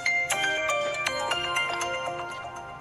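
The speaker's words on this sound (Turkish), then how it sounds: "Ama ben nasıl açacağım ki şimdi telefonu?" Phone ringtone playing a bright melodic tune of rapid plucked notes, close and clear with no talk.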